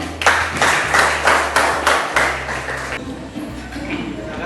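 A classroom of students clapping hands together in a few quick rhythmic bursts during a teaching session, then fading into quiet room noise with a low hum underneath.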